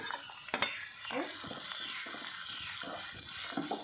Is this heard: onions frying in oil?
yes